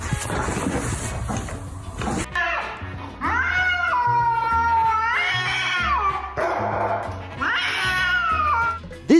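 Two cats fight indoors, trading loud, drawn-out yowls and caterwauls. The rising and falling wails go on almost without pause, close and harsh.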